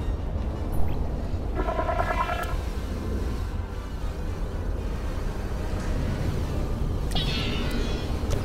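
A cat meows in bursts over a constant rumbling background, the calls moderately loud and repeated a few times with gaps between them.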